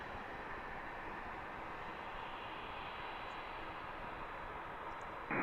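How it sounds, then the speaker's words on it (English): A Piper Archer light airplane's engine drones steadily at an airport, turning and coming in for a touch-and-go; the broad, even hum stays constant throughout with no talk over it. "that Piper Archer is making a right turn. I think it's coming in for a touch and go."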